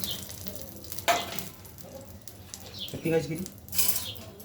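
Spoonful of chana dal tipped into a hot pan for chutney, crackling and sizzling in bursts with a few sharp stirring clatters, fairly faint with a quiet background.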